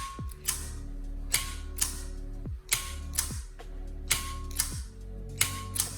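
24-volt Vetus bow thruster solenoid contactor on a 1988 Hatteras 65C, clicking open and closed in a steady series of sharp mechanical clacks, close and alone.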